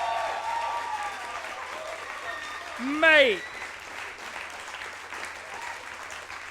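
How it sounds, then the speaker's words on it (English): An audience at a live poetry slam gives a round of applause, a soft, steady patter of many hands heard from a distance. A voice calls out briefly near the middle. "Can we just have a round of applause for everybody just once"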